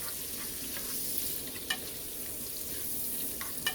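Ampalaya con carne frying in a pan, a steady soft sizzle with faint clicks of stirring, fairly quiet and even throughout.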